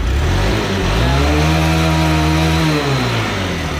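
A GD 110 motorcycle engine fitted with a Bajaj CT 100 carburetor idles loud and close, a steady buzzing drone that rises slightly in pitch and then settles, with no talk.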